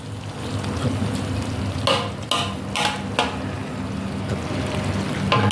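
Pork sausage stir-fried with red curry paste in a pan, a steady close sizzle broken by several sharp scraping and clanking strokes of the spatula as the mixture is tossed.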